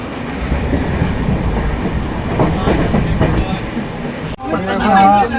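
A moving passenger train rumbles along with a continuous roar and clickety-clack of wheels, loud and close from inside, with people talking over it near the end.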